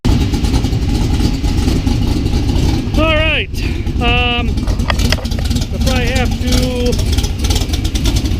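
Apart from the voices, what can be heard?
Classic Roadsters Cobra engine warming up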